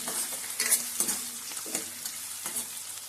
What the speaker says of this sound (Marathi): कांदे भाजून घेऊ